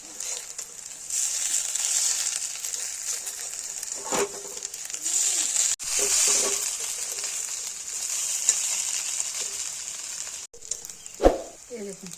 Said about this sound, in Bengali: একটা কড়াইয়ের মধ্যে তেল গরম হতে দিয়ে দিয়েছি। এবার বড়াগুলো এর মধ্যে দিয়ে দেবো।